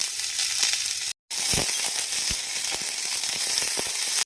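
Chopped onion and green chilies sizzling in hot oil with popped mustard seeds for a moong dal recipe, a loud steady frying hiss with scattered crackles and a brief cut to silence, no speech.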